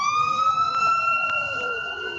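An ambulance siren in a video game wails steadily in a long, slowly falling tone, loud and close, with no speech over it.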